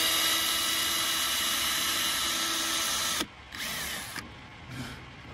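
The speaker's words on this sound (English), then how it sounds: "And then we can get our hole drilled for the wiring." A power drill bores a wiring hole in a car during an ambient lighting kit install, running loud and steady for about three seconds before stopping, then a couple of shorter, quieter bursts follow.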